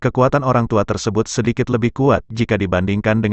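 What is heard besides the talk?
No distinct noise like a dog, phone or traffic.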